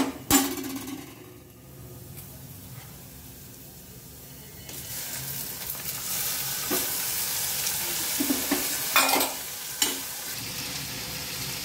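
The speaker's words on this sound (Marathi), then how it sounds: "आता आपल्याला कांदा आणि टमाटर हे दोन्ही पण चांगलं परतलेलं आहे" Steady frying sizzle of onion and tomato sautéing in a pan for masala Maggi, with occasional stirring clatter and scraping, moderately loud and continuous, no talking.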